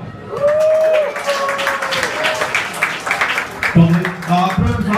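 A crowd at an open-mic comedy night at Kaļķu Vārti in Latvia claps to welcome the next comedian, lively applause mixed with loud whoops and shouted voices close by.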